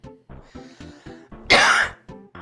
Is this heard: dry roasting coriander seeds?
no